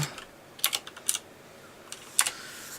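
Quick bursts of keystrokes on a computer keyboard, a few short clusters of crisp clicks separated by pauses, close and fairly quiet with no voice.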